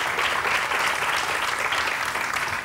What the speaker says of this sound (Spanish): Un aplauso para él, venga.